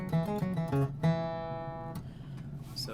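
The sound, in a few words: guitar playing third phrase of a song's melody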